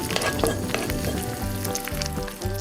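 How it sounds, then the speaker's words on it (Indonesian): Meat fries with sauce in a pan on the stove for pasta, sizzling steadily and loudly, with some stirring noise and no voices. "Tuangi saus dan gorenglah sebentar."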